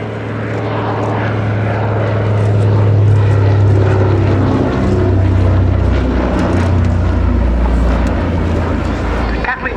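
Propeller-driven Catalina flying boat at an airshow, a steady loud engine drone with propeller throb throughout, a voice talking over it.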